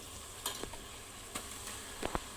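A ground paste of coriander, ginger, garlic and chilli being fried and stirred in a pan for masala rice, a faint low sizzle under soft scraping, with a few sharp clinks and taps from the spoon against the pan.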